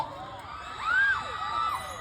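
Concert crowd at a mini concert in Gensan screaming and shrieking, with high rising and falling wails rising over a steady roar of voices, swelling louder midway through.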